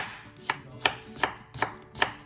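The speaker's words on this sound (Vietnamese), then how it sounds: "Thì đây mình có củ cải trắng nè, mình sẽ xắt ra từng sợi nha." Knife julienning white radish (daikon) into strips for kimchi, a steady series of five crisp chopping strikes on a cutting board, close and clear with no talk.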